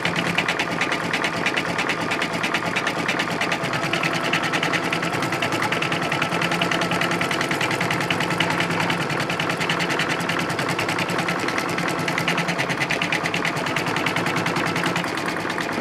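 An embroidery sewing machine stitching the outline of a mitten on a quilt block in purple thread, a loud, steady, fast mechanical whir and needle chatter running without a break.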